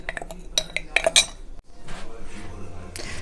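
Rasmalai dough with baking powder is mixed in a bowl with a metal spoon, sharp clinks and scrapes against the bowl in quick bursts, then a softer stirring rustle, close by.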